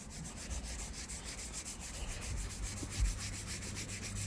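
Steady rhythmic rubbing and scrubbing of a grime-clogged car steering wheel during cleaning, a close, soft, repetitive back-and-forth scratching with no talk.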